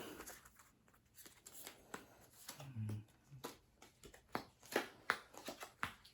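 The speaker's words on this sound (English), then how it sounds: "you're going to deal out the 5 cards" Playing cards are dealt one by one for a round of Ricochet Poker, giving soft, quiet flicks and slaps in an irregular sequence, a few sharper than the rest, with no voices.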